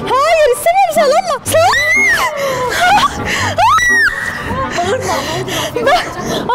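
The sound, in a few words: child screaming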